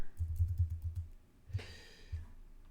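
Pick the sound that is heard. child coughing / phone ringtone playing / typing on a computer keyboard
typing on a computer keyboard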